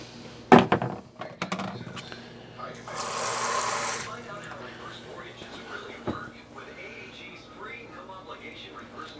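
A short burst of water pouring into almond and coconut flour naan dough, a gentle rushing splash lasting about a second amid kitchen clatter and faint bumps.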